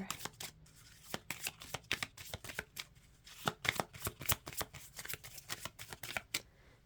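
Tarot cards being shuffled in a steady run of crisp riffling bursts and soft slaps, close and fairly quiet, with no voice over them.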